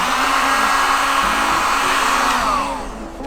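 A heat gun blows steadily on vinyl wrap stretched over a car hood, a loud, continuous whooshing hiss that holds for about three seconds before dropping slightly in level near the end.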